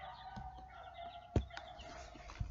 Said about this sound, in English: Let's go inside and see the hens. Oh, you see the rooster?